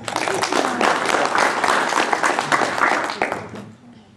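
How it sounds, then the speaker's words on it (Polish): A crowd breaks into applause, a burst of individual claps with some louder hands near the front, holding steady for about three seconds before tapering off toward the end. "No to dla was duże brawa przede wszystkim."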